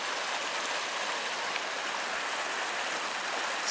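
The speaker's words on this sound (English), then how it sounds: "A nice little creek." Small creek running low, a steady close-up rush and babble of shallow water flowing continuously, alone without voices.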